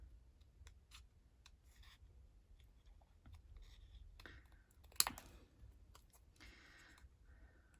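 Stampin' Up! Paper Snips scissors cut through craft paper in quiet, close, irregular snips, with soft paper rustles and clicks scattered between them.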